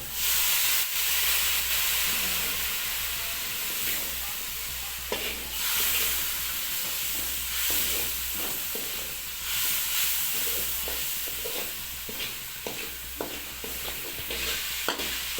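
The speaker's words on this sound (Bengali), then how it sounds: "হালকা জল দিয়ে মশলাটাকে নেড়ে নেব" Chicken spice masala with a little water is stirred in a pan. A steady sizzle and hiss runs throughout, with repeated scraping and clinking strokes of a spoon at irregular intervals.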